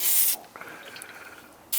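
A sharp burst of pressurized spray hisses from a rechargeable electric garden sprayer leaking at its seam, fades into a thin, quiet leaking hiss, then another brief loud spurt at the end.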